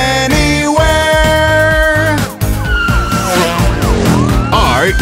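A police car siren sounds in a children's car song, wailing up and down loud over busy music, with a brief skid-like break midway.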